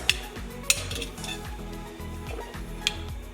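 Dark chocolate ganache stirred in a double boiler, a spoon scraping and clinking against the bowl in repeated strokes, with a few brighter taps standing out over a soft background hum.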